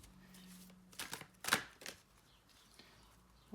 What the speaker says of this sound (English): Let's just shuffle the cards one more time.